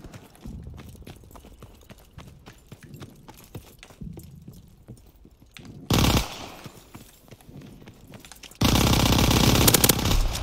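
Automatic gunfire in a shooter video game, with a long sustained loud burst near the end after a short earlier burst, over quieter clicking and footstep-like game sounds.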